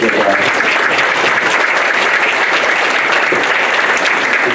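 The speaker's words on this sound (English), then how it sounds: "So give that guy another round of applause." Loud, sustained applause from an audience at a volunteer awards ceremony, a dense continuous roar of many hands clapping close to the microphone.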